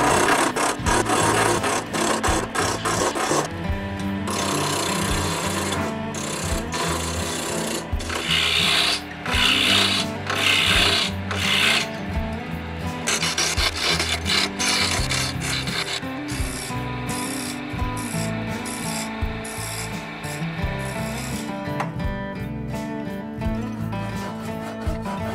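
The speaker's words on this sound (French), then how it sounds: "Je peux tourner un petit bouton en érable qui me permettra de fixer la table à un angle voulu." A small maple wood knob is being turned for a homemade wooden lapidary sander, making continuous rasping, scraping friction with uneven surges throughout, close and fairly loud.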